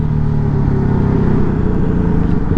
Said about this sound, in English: I don't remember dual sports being this loud, you know.